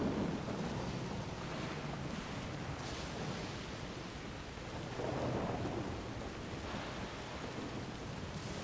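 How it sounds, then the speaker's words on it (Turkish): Heavy rain and rolling thunder in the video game Death Stranding, a steady downpour hiss with low rumbling swells, moderately quiet and with no voices. "İnanılmaz yağmur, inanılmaz sis."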